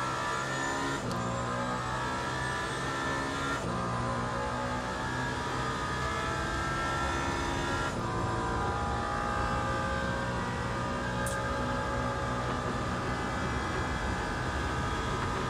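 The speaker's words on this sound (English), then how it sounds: "the wind noise is a bit much in this thing at these speeds" Steady, loud rushing wind and road roar inside a fast-moving race car in the racing game Le Mans Ultimate, with engine drone shifting pitch a few times throughout.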